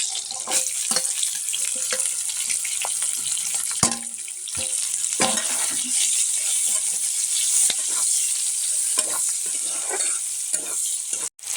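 Onions frying with ginger and green chilli in a pan, a busy crackling sizzle with repeated spoon stirs and scrapes and a couple of sharp knocks, close and steady throughout with no talking.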